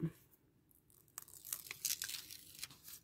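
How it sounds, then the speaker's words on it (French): Quiet crinkly tearing and crackling as thin protective plastic film is peeled off tape, in short bursts with brief pauses, close up. "je retire la petite pellicule"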